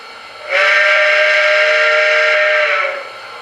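An unidentified steam whistle sound from a TCS WOW heavy steam decoder gives a single loud, sustained blast of a few seconds, heard alone, which cuts off cleanly.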